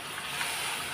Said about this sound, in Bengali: জলটা ঢেলে দিলাম